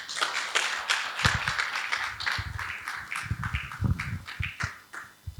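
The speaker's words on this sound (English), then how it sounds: "Please keep clapping till she returns to her seat." An audience claps at a training session's introduction, a steady patter of hand claps with some sharper close taps. The applause holds at an even level and thins near the end.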